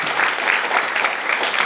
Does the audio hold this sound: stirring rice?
no